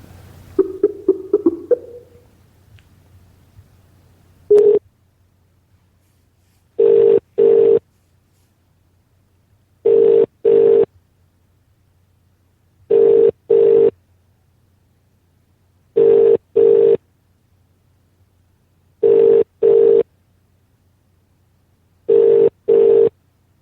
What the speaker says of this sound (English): we phone Imran back